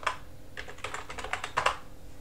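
A command being typed on a computer keyboard at a Linux terminal: a quick, uneven run of soft key clicks, close and fairly quiet, with no voices.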